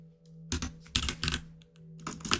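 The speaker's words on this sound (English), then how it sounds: "Oh, my typing is just off." Quick bursts of clicking keystrokes on a computer keyboard, close up, with short pauses between flurries of typing.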